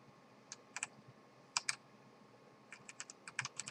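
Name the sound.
computer keyboard keys pressed for WASD controls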